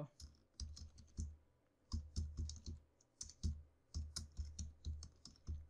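Close, crisp computer keyboard typing comes in quick bursts of keystrokes separated by short pauses as a MySQL select query is entered.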